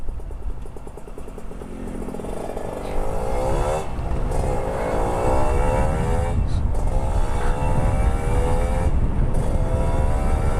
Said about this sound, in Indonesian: ada mobil yang muter balik lagi